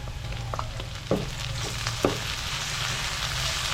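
Garlic and tomatoes sautéing in a pan give a steady, close frying hiss, with a couple of sharp clatters as pieces drop in.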